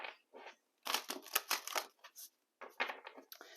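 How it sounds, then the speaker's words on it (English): An oracle card deck being shuffled by hand, giving a few quick bursts of papery riffling and slapping with short pauses between them, close and fairly quiet, with no voice. "Let's shuffle this way first."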